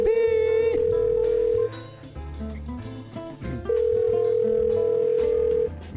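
An old phone line plays a loud steady dial tone, then a run of ringback tones with a short break between them. Music plays under the tones, with no talking.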